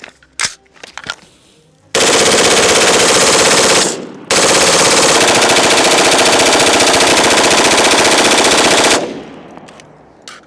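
Sustained rapid rifle gunfire from a hot, carry-handle-less rifle during a high round-count endurance test, loud and close, pouring out in two long continuous bursts separated by a short pause, with scattered single shots before.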